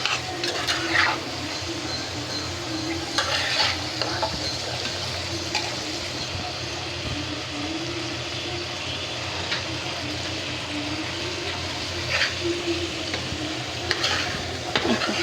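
A continuous close sizzle of spices, including coriander powder, frying in a pan for poa fish bhuna, with occasional stirring scrapes and a low background hum.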